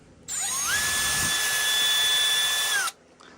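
Cordless power drill driving screws into 3D printed plastic feet for a Milwaukee Packout-style case, one loud sustained whine that ramps up, holds steady and stops, heard close and alone.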